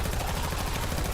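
An SMG in a Fallout game fires in a rapid, unbroken burst, each shot landing in a fast rhythm. The fire is loud and close with no voices over it.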